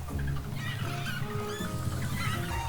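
Chickens in a video game cluck continuously over busy background noise, a steady flock sound without pauses.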